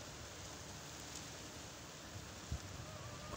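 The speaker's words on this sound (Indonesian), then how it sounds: "tuh udah turun ya hujannya ya karena di sini ceret sebelah sini guys" Soft, steady rain hiss, faint and distant, with a dull tap or two near the end and no talking.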